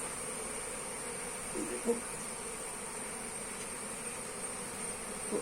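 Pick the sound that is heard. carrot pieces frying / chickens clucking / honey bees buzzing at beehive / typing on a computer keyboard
honey bees buzzing at beehive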